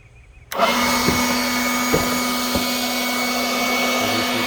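Ryobi leaf blower switched on abruptly and running at a steady loud whine while blowing against a cardboard box, with a few brief thumps as the box is pushed.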